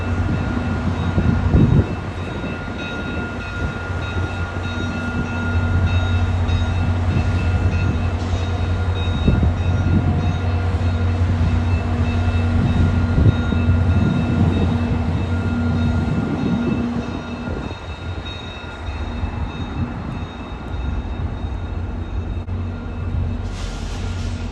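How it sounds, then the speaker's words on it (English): A VIA Rail passenger train with a General Motors EMD F40PH-2 diesel locomotive rumbles past steadily, a deep engine drone with rolling wheel noise and clatter, loud and close, with no voices throughout. "Pushing at the rear of the train is a General Motors Electro-motive division, F40PH-2."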